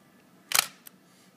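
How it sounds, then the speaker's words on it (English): A film SLR camera being wound: one loud ratcheting burst from the advance lever, then a small click a moment later, close and alone with no talk. "Wind your camera."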